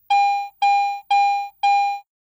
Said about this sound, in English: non-ferrous items with medium to high conductivity produce a bell tone.